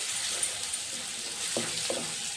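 Garlic chili paste frying in ghee sizzles with a steady, close hiss, and a couple of brief stirring scrapes land near the end.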